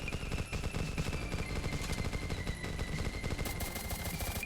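Towers firing in a Roblox tower defense game: rapid continuous machine-gun-like shooting, dense and steady, at moderate volume with no speech.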